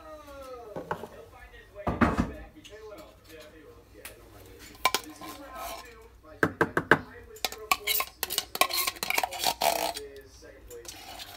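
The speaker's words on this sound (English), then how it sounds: "I'm going to get a spoon so I can get all that goodness out of that can" A spoon scrapes and knocks against the inside of a can of cream of potato soup in a home kitchen, giving irregular metallic clinks and scrapes in bursts, with a voice heard alongside.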